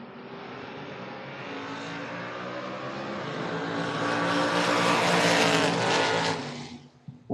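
Drag race cars, one a Camaro, launching off the line at a strip race, a loud sustained engine roar building over several seconds, then fading away at the end.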